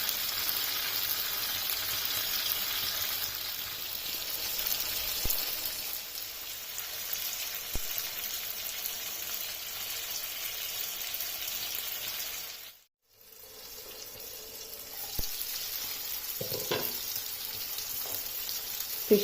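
Fish shallow frying in oil on a flat tawa, a soft, continuous sizzle and crackle heard close up, with a brief drop to near silence partway through before the frying resumes.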